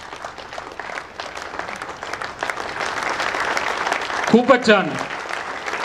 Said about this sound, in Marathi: आणि बघू तुम्ही सगळे काय जोरात टाळ्या वाजवत आहे.